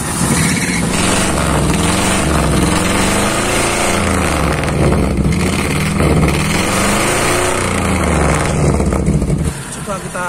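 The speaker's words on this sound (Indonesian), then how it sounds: "coba kita nyalakan mesinnya." Car engine with an ignition system built from motorcycle ignition parts, made water-resistant, starts and runs at a steady idle; loud, continuous low rumble throughout with a voice talking over it.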